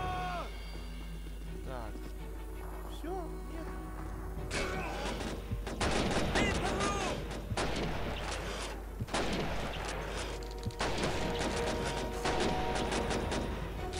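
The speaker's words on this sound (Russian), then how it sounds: "Берегись, пулемет!" Machine gun fire in Call of Duty 2 on the Soviet campaign: a quiet stretch, then dense, rapid bursts of gunfire and blasts that crackle loudly for the back half, with shouting voices mixed in.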